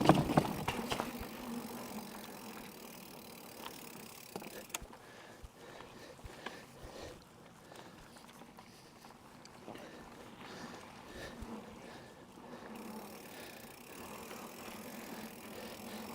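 A mountain bike ridden slowly outdoors, with faint continuous rolling and light mechanical rattling from the frame and drivetrain throughout.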